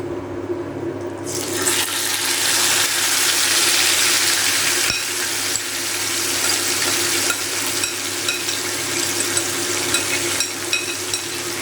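Chicken pieces hitting a hot pan burst into a loud, close, rushing sizzle that settles into a steady fry, with intermittent stirring scrapes as the meat is sautéed; no voices.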